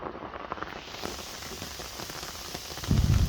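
Heavy rain pours in the Sundarbans forest, a dense steady hiss of drops close by, growing into a louder, heavier thrum at the end.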